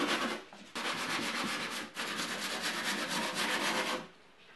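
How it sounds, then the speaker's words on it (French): Wood filler on metal-framed furniture being sanded by hand, a steady abrasive scrubbing in long strokes with two brief pauses, close and loud with no talk. "Un petit coup de ponçage."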